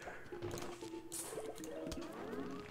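Plants vs. Zombies game effects as a plant grows big: soft squishy, drippy liquid blips and short rising chirps over faint background game music, quiet and brief.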